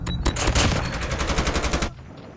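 Rapid automatic gunfire in dense, loud bursts of closely spaced shots, running steadily for almost two seconds before cutting off abruptly.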